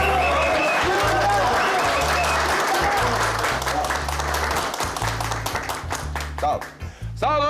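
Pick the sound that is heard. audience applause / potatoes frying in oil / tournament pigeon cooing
audience applause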